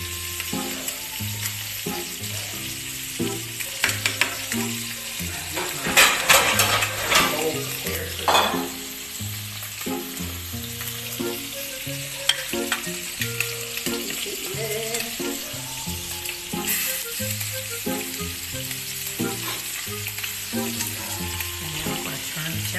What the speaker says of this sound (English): Constantly stirring the macaroni.